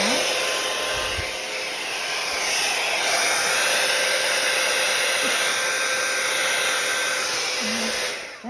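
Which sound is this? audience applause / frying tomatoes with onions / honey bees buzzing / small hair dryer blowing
small hair dryer blowing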